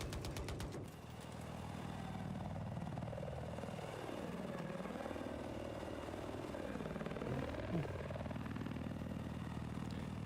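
Helicopter flying in a 20v20 multiplayer video game battle, a steady loud rotor and engine drone lasting throughout, with the engine pitch dipping and rising as the aircraft manoeuvres.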